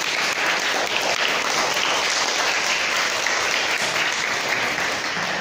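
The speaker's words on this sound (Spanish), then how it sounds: "¡Un aplauso para Venezuela!" Schoolchildren at a Venezuelan primary school applaud together, a continuous dense clatter of small hands, moderately loud and steady for several seconds with no voices on top.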